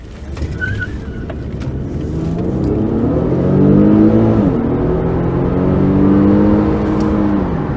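An Infiniti Q50 S hybrid car drives with a loud, steady engine hum that rises in pitch as it accelerates, then eases and climbs again, heard from inside the car without speech.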